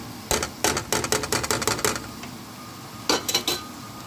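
A spoon clinks and scrapes against a pan while tomato paste is stirred into the other ingredients, coming in two quick bursts of rapid metallic taps with a short pause between them.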